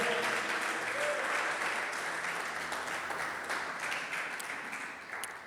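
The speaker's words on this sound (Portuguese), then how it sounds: "Você pode aplaudir o Senhor por esta glória" A church congregation applauds together, a thick steady clapping that gradually tapers off toward the end, heard from within the hall.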